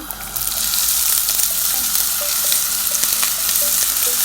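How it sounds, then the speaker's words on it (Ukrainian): Onions sizzle loudly in hot sunflower oil in a frying pan, a steady bright crackle with occasional stirring scrapes, close up. "на розігріту сковорідку столову ложку сонячникової олії, нашу цибульку"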